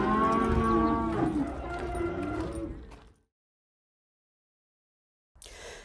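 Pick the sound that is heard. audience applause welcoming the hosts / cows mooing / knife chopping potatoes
cows mooing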